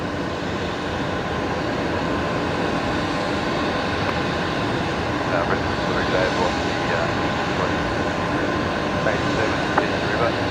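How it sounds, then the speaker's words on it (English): An airliner takes off at night at Brisbane Airport, a continuous broad engine roar held at a steady level from a distance for the whole stretch. "They are cleared for takeoff already."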